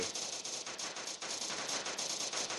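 Rapid, dense gunfire in the Prop Hunt video game: a loud, continuous stream of shots and bursts with no pause across the whole stretch.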